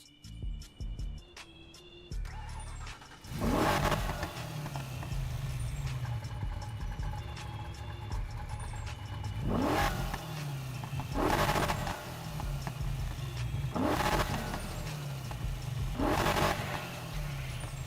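A deep, rumbling muscle car engine in the video game Need for Speed Heat idles and is revved repeatedly, with four or five surging roars rising and falling at steady intervals.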